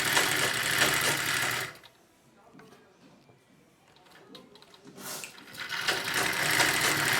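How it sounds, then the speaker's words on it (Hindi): A sewing machine stitches a pico edge on cloth, whirring loudly, then pausing into near quiet before starting up again and running steadily to the end. "ये हमारी मशीन चलती रहेगी ऐसे।"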